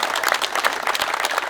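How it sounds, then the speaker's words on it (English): An audience claps for a speaker at a park ranger talk, a dense, steady burst of applause from a sizable crowd filling the whole short moment. "So give him a round of applause in advance."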